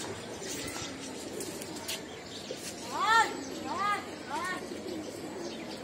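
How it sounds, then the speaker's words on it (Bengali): A pigeon coos in three short rising-falling calls partway through, over a steady outdoor background with other birds faintly chirping and a voice in the distance. "12 নম্বর কবুতর নামতেছে"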